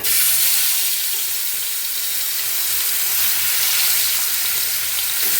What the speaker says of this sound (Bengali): আগে মাছ ভাজি তারপর আমি বাকি রান্না করি